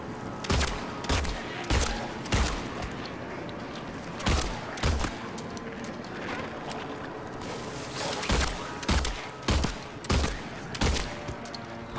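Gunfire in the Silent Hill 2 video game rings out in repeated sharp shots, some in quick doubles and triples, over a constant murky ambient background.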